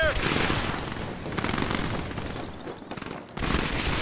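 Rapid volleys of gunfire crackle in the GDI Regenesis mod battle, dense bursts layered with game effects, easing briefly before a loud burst returns near the end.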